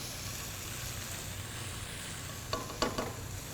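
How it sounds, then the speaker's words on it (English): Steady sizzle of shallots frying in olive oil in a pan fills the clip, with a couple of brief stirring scrapes near the end. "And you can hear that sizzle, right?"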